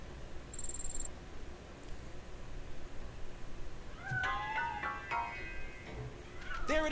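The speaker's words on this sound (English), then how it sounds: "That cat must be hiding inside." A cat hiding inside a piano in a game gives a few high, wavering meows late on, fairly clear over a low background, after an earlier brief electronic tone.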